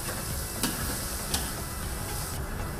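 Boiled chicken with lemongrass and lime leaves sizzles in an oiled wok, a constant close frying hiss with a few faint clicks of stirring, no voices over it.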